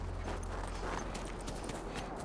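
Horse hooves clip-clopping in The Last of Us, a steady run of soft thuds over constant game ambience and low hum, with faint voices at moments.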